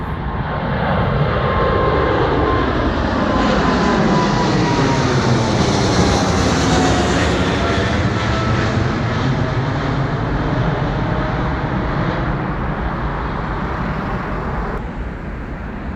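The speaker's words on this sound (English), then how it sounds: "Just as a big plane's about to fly over, let's spin." A big airliner passes low overhead near Heathrow airport, its jet roar swelling loud and holding for many seconds with a sweeping whine as it flies by, then easing slightly toward the end.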